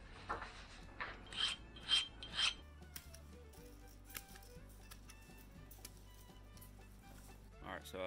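Bark scraped off freshly cut maple walking sticks, heard as a few loud rhythmic rasping strokes up close, followed by softer scraping and handling noises.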